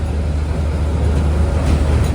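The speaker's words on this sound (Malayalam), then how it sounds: "train number 16363 Ernakulam junction Velankanni weekly express ഇതാ പ്ലാറ്റ്ഫോം നമ്പർ 2" Ernakulam–Velankanni Weekly Express rolling into a station platform, a loud, steady low rumble of the train filling the whole moment without any break.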